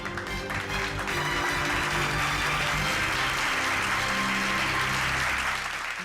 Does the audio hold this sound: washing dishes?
no